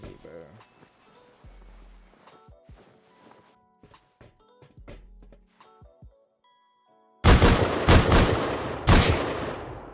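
AK rifle fire in the video game Rust, with sparse shots and footsteps early, then a sudden loud burst of rapid close gunfire near the end while people talk.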